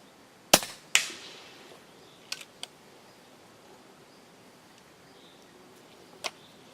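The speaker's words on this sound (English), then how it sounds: "The gun is a little more quiet now. That's kind of makes sense because it's a longer barrel" An EDgun Leshiy air rifle with a longer barrel fires pellets: a few sharp, fairly muted cracks, two close together early on, then a couple of softer ones and a lone shot near the end, with quiet in between.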